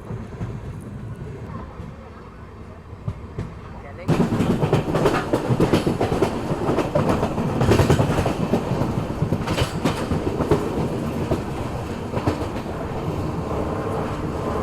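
Kathgodam Shatabdi Express rolling on rails as it approaches Rudrapur City station in Uttarakhand, a steady loud rumble with clickety-clack that swells sharply after a quieter opening and carries on continuously.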